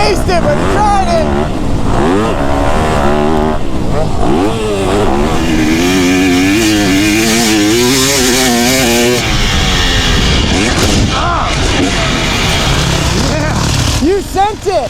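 KTM two-stroke dirt bike engine revving and buzzing loudly and continuously as it rides, pitch rising and falling with throttle, with faint voices in the background.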